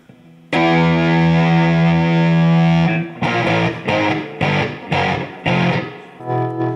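Electric guitar through a Fuzz Face fuzz pedal, signature edition: a loud sustained distorted chord rings for a couple of seconds, then a series of choppy, rhythmic fuzzed stabs follow, alone without talk.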